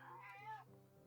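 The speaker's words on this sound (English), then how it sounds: "That's my cat." A pet cat named Broccoli lets out one short, faint meow indoors, a soft rising and falling call heard alone against quiet room hum.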